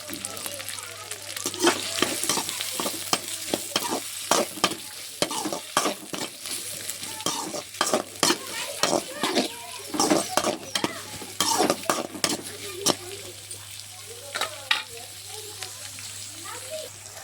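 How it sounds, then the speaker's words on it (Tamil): Onions and curry leaves sautéing in a pan until golden, with steady sizzling, frying crackle and repeated stirring clatter of a spoon against the pan, close and continuous throughout. "வெங்காயம் நல்லா கோல்டன் ஃப்ரை வர வரைக்கும் நல்லா வதக்கி எடுத்துக்கலாம்."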